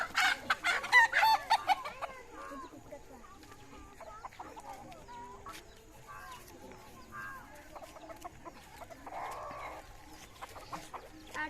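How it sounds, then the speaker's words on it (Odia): Village chickens and a rooster in Naranapat, with clucking and a crowing burst near the start, then scattered fowl calls and faint background sounds over a quiet stretch. "ଏ ନରଣାପାଟରେ ବଢ଼ିଆ ବଢ଼ିଆ ସବୁ କୁକୁଡ଼ା ଅଛନ୍ତି ଦେଖନ୍ତୁ ପୁରା ଷ୍ଟାଇଲିଶ କୁକୁଡ଼ା ସବୁ"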